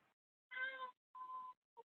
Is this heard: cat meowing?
yes